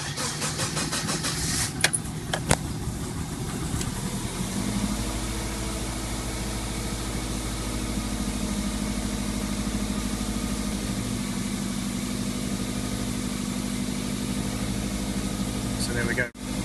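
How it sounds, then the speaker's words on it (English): A Subaru EJ20 turbo engine, its knock sensor bypassed, cranks briefly on the starter, then catches and settles into a steady, even idle that runs on close by. "we'll see if we can run the car now without the check engine light on"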